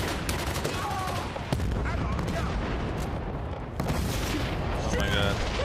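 Gunfire in the Battlefield: Bad Company campaign, a dense continuous barrage of shots and blasts filling the whole stretch at steady loudness, with voices talking excitedly over it.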